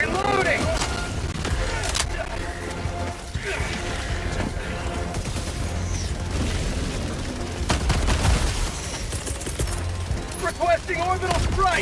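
Sentry gun fire and rumbling combat effects in the Helldivers 2 video game, dense and continuous with repeated bursts and mechanical clanks, accompanied by game voice lines and talk.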